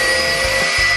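A power drill drives a star-head screw into cabinet wood, a loud, steady high-pitched whirring with slight dips in load, heard alone at close range.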